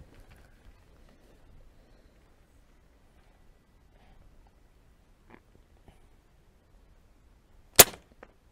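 A single sharp crack of a Seneca Dragonfly MKII pump air rifle during a shoot-off, loud and brief against a quiet background, with a few faint clicks and small knocks before it.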